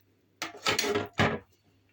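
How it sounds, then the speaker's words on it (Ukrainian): A special cabbage knife chops cabbage in a few quick, close, crisp strikes, two bunched together and one after a short pause, then quiet. "Капустину я насікаю ось таким спеціальним ножиком."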